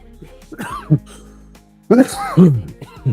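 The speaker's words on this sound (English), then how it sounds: "I don't mean to cough in your ear like that." A voice followed by two or three short, harsh coughs or throat-clearing bursts, close to the microphone, then more speech.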